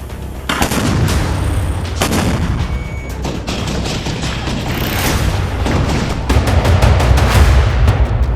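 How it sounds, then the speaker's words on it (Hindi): Artillery and gunfire in war footage from Gaza: several loud, sharp blasts and booming reports, some in quick bursts, over a constant rumbling background. "गाजा में बारूद बरस रहा है"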